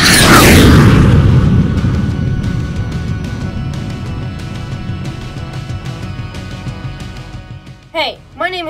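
A loud grenade blast in a Lego Star Wars stop-motion scene, a broadband boom at the start that decays into a rumbling tail, followed by a brief voice near the end.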